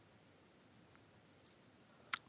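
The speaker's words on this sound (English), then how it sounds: "I want to enter some cricket sound effects here" Crickets chirp in short, sharp bursts, a handful of bright chirps spaced irregularly over a quiet background, fairly faint and with no other sound.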